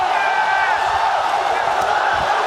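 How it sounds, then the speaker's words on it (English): A large esports tournament crowd at the 2013 LCS All-Star event cheers and roars without a break. The sound is a dense, loud wash of voices that holds steady throughout. "Just gonna let the crowd talk for me"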